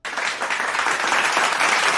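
A canned applause sound effect bursts in abruptly and holds as a bright, steady crowd clapping, fairly loud and uninterrupted for a couple of seconds with no speech.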